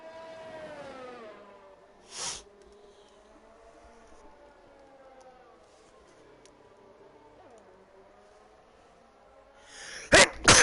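A sharp sneeze bursts out over the steady droning whine of an F3 race car engine at the China round, followed near the end by a quick cluster of louder sneezing blasts.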